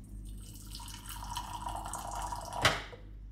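Hot water runs from a Matrix GOLD mini water bar dispenser: a soft trickle, then one sharp, close drip-splash near the end, followed by quiet.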